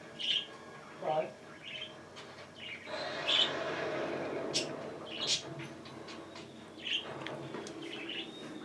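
A bluebird gives short, clear chirps spaced a second or two apart, moderately close, over a low background murmur that sounds like faint voices.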